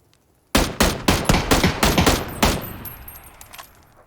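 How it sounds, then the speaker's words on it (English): Rapid string of about nine loud, sharp semi-automatic gunshots from PUBG, fired in quick succession with a ringing tail that fades over the last second and a half. "Now see how many shots I was able to take at him with that semi-automatic."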